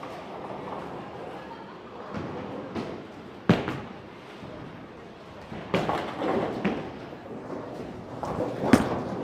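A Columbia 300 Super Cuda Powercor Pearl bowling ball rolling down a lane in a bowling alley, with a low rumble, a sharp crash into the pins and scattered clatter, amid ambient alley noise.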